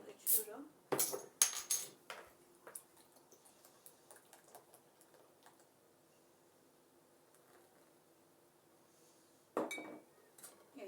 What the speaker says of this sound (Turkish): hepsini karıştırıyorum.